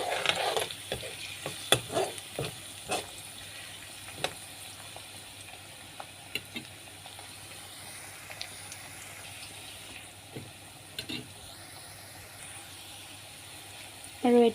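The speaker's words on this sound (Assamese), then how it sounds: "আৰু এতিয়া তেলতে দি দিম নহৰু অকণমান" Garlic sizzles in hot oil in a home kitchen, a soft steady frying hiss broken by scattered clinks and scrapes of a stirring utensil against the pan.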